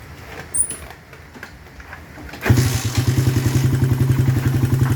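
A Suzuki Raider 150 motorcycle fitted with a Koso carburetor, quiet at first with faint clicks, then the engine cranks and catches, settling into a loud, close, steady pulsing idle.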